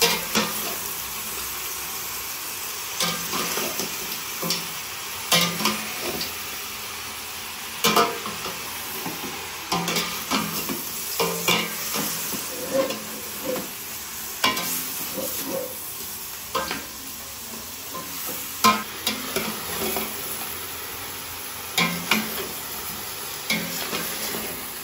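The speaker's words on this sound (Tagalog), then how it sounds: "Tapos haluin natin ulit." Goat kaldereta stirred in a pan after white pepper and annatto go in, a spoon scraping in irregular strokes over a steady background sizzle, fairly close and with no voices.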